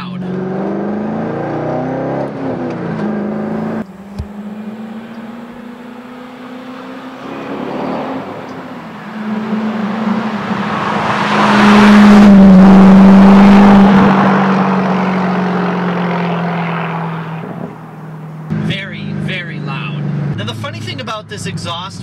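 A loud Corvette SLP Loudmouth exhaust drones and revs, rising to a roaring peak midway before settling, with a person talking over it at the start and end.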